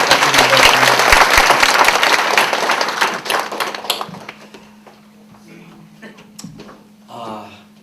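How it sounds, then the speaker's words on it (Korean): A church congregation claps loudly for a few seconds after a choir performance, then the applause thins out and fades, leaving a low hum and a brief voice. "우리 다시 한번 박수 부탁드립니다."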